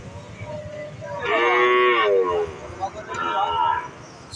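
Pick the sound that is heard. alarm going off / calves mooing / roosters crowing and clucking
calves mooing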